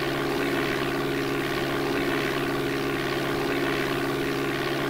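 Propeller airplane engine in the DOS flight game Flight Simulator 4, a steady, loud droning hum with a constant tonal whine that holds unchanged throughout, with no voices.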